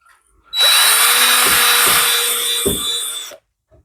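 Power drill spinning a gun-cleaning-kit brush inside cylinder head valve guides: a loud, steady high whine for about three seconds with a few scraping thumps, starting and stopping abruptly.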